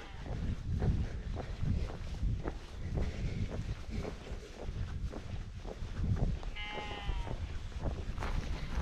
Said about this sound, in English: Sheep and some small cows.